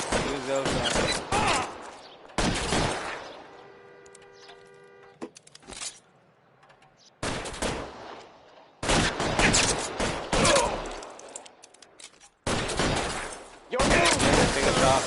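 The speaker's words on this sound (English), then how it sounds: "What are they shooting at?" A shootout in L.A. Noire brings several loud bursts of rapid gunfire, separated by quieter pauses, with speech in between.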